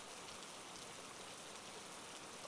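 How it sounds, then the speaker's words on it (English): Steady rain falls close by, a dense, even hiss of drops on surfaces with no pauses and no voices. "I thought it was just the rain."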